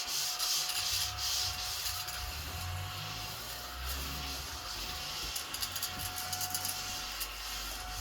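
A vacuum cleaner sucks up glitter mess left from making an artificial Christmas wreath indoors, giving a steady whirring drone with a thin, constant whine and scratchy rustling and rattling as debris is drawn in.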